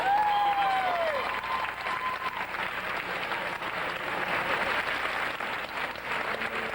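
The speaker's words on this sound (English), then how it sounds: "Everybody, Bob Martin, please give him a round of applause." Steady applause from a theatre audience at a closing night of Cats in London fills the whole stretch, a dense even patter of clapping from many hands.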